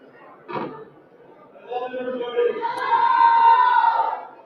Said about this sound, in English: They're cheering in the background.